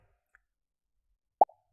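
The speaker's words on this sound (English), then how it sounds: "before we hide the balloon and play the sound pop until that sound is done" A Scratch programming project plays its cartoon pop sound effect as a balloon sprite disappears: one short, soft, hollow plop, alone against near silence.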